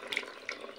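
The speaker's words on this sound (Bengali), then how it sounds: "তো এই সময় পনিরটা, ভেজানো পনির আর জল শুদ্ধ দিয়ে দেব।" Water poured from soaked paneer into a cooking pan for shahi paneer with cauliflower, a brief soft splash and trickle lasting under a second.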